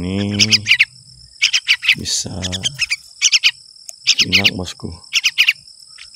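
Baby yellow-vented bulbul chicks chirp in quick, shrill bursts, close and loud, with someone speaking between the clusters of calls.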